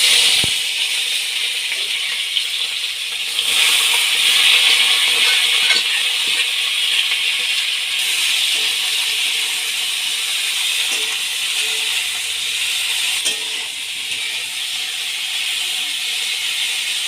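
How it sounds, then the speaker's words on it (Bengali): Young jackfruit pieces frying in hot refined oil in a heated kadai give a steady, loud, close sizzle with a bright hiss that holds for the whole stretch, with no voices. "এবার আমি হিঁচড়গুলো ভাজতে দেব"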